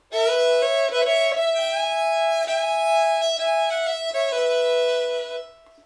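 A fiddle plays alone, close and full, bowing two strings at once for a richer, ringing tone across several phrases before fading out.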